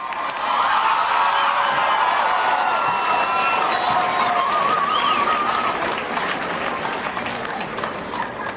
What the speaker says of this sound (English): Let's congratulate our graduates with another round of applause